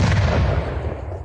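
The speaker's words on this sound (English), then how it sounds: "Let's do an explosion." A single explosion sound effect run through a homemade vocal reverb, a loud broad rumbling boom that decays over about a second.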